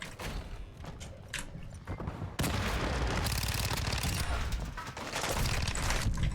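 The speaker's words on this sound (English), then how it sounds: "The Vtol can shoot from the sky?" VTOL aircraft strafing from the sky in a Call of Duty match, a dense loud barrage of rapid gunfire and impacts that swells and stays heavy throughout, with a player's voice faintly underneath.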